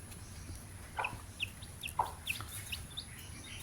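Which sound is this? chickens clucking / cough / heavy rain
chickens clucking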